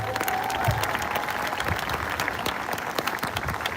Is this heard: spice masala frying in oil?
no